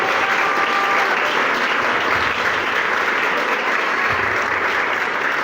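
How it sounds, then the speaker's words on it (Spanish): Loud, sustained audience applause at a film festival conference greets actress Angélica Aragón, a dense, steady wash of clapping that holds at full strength throughout. "si nos pueden ayudarnos con un fuerte aplauso para darle la bienvenida"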